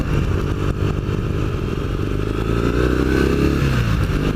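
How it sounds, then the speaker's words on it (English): A 2015 Triumph Thruxton motorcycle engine runs loud and close, its steady throbbing note rising slightly as it rides along. "She has got a nice note to the engine nonetheless."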